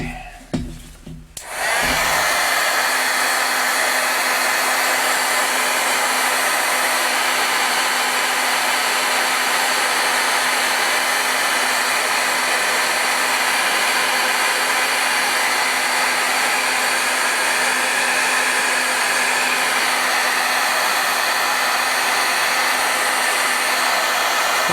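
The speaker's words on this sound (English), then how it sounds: "I now have a heat gun set up here. Maybe I'll dry this off a touch." Heat gun blowing steadily and loudly for over twenty seconds, a continuous broadband whoosh with a faint motor hum, drying stamped matte paper on a craft desk; no talking.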